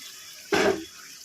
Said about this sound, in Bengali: মিষ্টি বাটিটা দিয়ে জল দিয়ে দিলাম